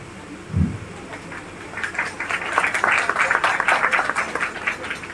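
An audience clapping together during a Ramdasi kirtan, starting as scattered claps and building into steady, fairly loud rhythmic applause that continues to the end.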